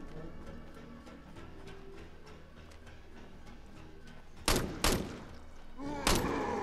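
Three loud pistol shots fire in quick succession at a giant zombie in the State of Decay video game, cutting sharply above a softer backdrop of ticking ambient game noise.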